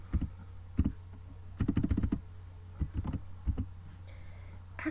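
Keys on a computer keyboard clatter in short bursts of quick clicks separated by pauses, close and fairly quiet, with no one speaking.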